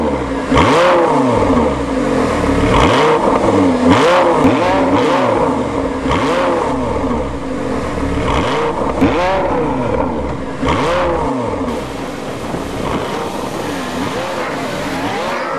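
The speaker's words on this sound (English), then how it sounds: "got a brand new 552 horsepower sports car you want to show off" A 2009 Lamborghini Gallardo LP 560-4 Coupé's 552-horsepower engine revs hard and loud at Las Vegas Motor Speedway, its pitch sweeping up and down repeatedly through gear changes as it accelerates, with no talking.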